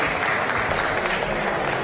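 Audience applause for a lifter at a Finnish repetition bench press championship at Fitness Expo 2024, steady dense clapping filling the hall, loud and continuous throughout without pause.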